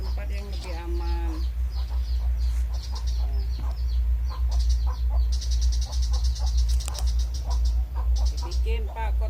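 Chickens cluck and chatter in bursts close by, with a steady low hum running underneath throughout.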